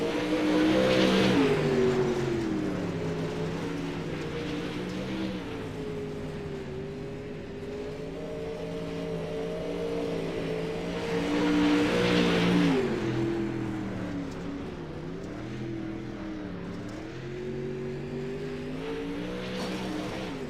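Pro late model dirt race cars at Lucas Oil Speedway roar continuously with a loud, steady engine drone, swelling as packs pass at several points and easing between, with no voices.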